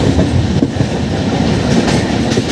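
The Madgaon AC double-decker express runs on the rails between Ratnagiri and Thane, heard from on board as a loud, continuous rolling rumble with a faint rhythmic clatter of the wheels and no talking.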